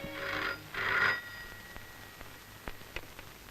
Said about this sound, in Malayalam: ആകെ രണ്ട് ബെല്ലടിച്ചു